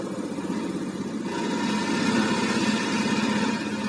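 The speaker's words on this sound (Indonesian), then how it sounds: "nyalakan mesin." A fuel-injected motorcycle engine starts and settles into a steady, loud, close idle, its low rumble continuous and strengthening slightly after the first second with no talk over it.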